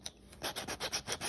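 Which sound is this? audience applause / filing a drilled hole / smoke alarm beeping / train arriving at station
filing a drilled hole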